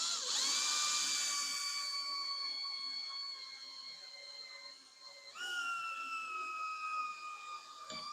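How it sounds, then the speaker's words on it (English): A power drill bores a hole in a garage, giving two high-pitched whining runs. Each starts with a quick spin-up and holds a steady tone, with a short break and restart about five seconds in. "let's drill a hole"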